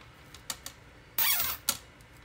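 A yellow zip tie ratchets tight around wreath wire, giving a short sharp squeaky zip in one loud burst, with a few small clicks before and after, close and alone.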